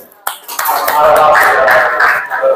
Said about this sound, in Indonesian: Maka kita berikan aplaus dulu.